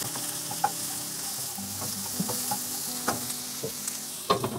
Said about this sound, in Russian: на сковородку я наливаю немного растительного масла и обжариваю лук.